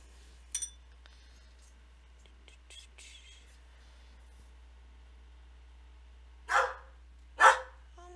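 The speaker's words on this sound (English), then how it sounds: "Oh my goodness, dogs." Pet dogs bark indoors: one sharp yip near the start, then after quiet rustling two loud, separate barks close together near the end, with no talk.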